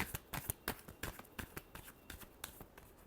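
Tarot cards are shuffled in the hands, a quick series of close, sharp riffling flicks and slaps with brief gaps between them.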